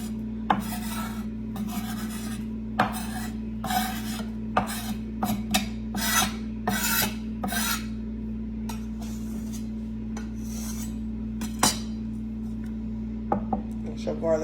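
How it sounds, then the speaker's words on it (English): Garlic is scraped into butter in a home kitchen with a series of short, close rasping strokes, some spaced and some in quick bursts, over a low steady hum. "you're going to take your garlic, you're going to scrape that over in your butter"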